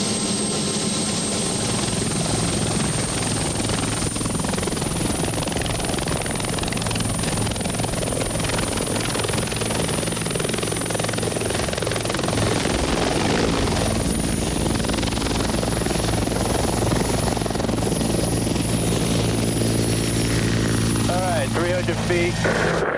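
A helicopter on fire patrol flies with a steady loud rotor and engine drone, a constant high whine over it, while voices talk over the noise throughout.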